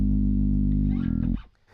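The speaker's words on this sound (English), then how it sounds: "that was the start of the Sawtooth wave." Bass played through a Boss SYB-3 bass synthesizer set to a sawtooth wave, one loud sustained buzzy synth note that holds, then cuts off and decays into quiet after about a second and a half.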